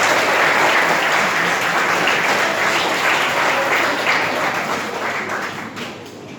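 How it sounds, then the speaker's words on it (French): An audience at a Ramadan dinner of a Muslim association in French Guiana applauds, a dense, loud, sustained clapping from a large crowd that tapers slightly toward the end, with no speech. "Je vous demande de les applaudir pour tout ce qu'ils font pour la Guyane."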